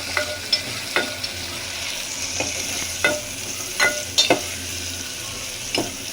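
Sliced onions frying in a pan with green chillies, cinnamon and cloves for paya curry, giving a steady close sizzle punctuated by several sharp spatula clacks and scrapes against the pan, with no talking.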